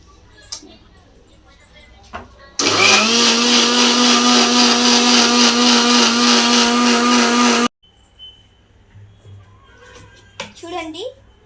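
A mixer blender whirs loudly for about five seconds, blending mango with milk for juice, a steady high motor drone that starts and cuts off abruptly, with quieter handling noises and speech before and after.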